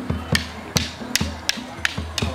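Rattan sticks clack together in an advanced single sinawali drill, a steady, even run of sharp wooden strikes about every half second, close and alone with no talk.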